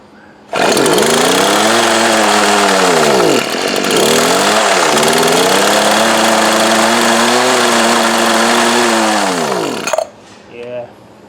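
Worn twenty-year-old Poulan Pro two-stroke hedge trimmer engine starting abruptly and running loud and close for about nine seconds, pitch sagging and recovering as it struggles on open choke, then cutting out with a brief sputter.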